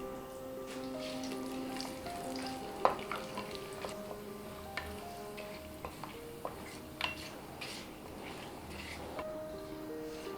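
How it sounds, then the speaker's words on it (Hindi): Whole spices—green cardamom, cloves, black pepper, cinnamon, bay leaf—and cumin roast in a pan with a soft, faint crackle, punctuated by scattered light clinks and taps of a spoon against the metal pan. "अब हम जीरा डाल लेते हैं और सभी को अच्छे से भून लेते हैं"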